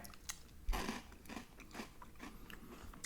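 Dry Peeps cereal crunched and chewed close up, a loud bite followed by several softer crunching chews with short pauses between them, and no talking.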